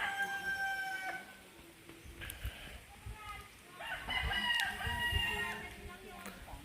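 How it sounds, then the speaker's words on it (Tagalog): A rooster crows a few times nearby on a tilapia farm, with hens clucking and faint voices in the background. "Manok din natin yan."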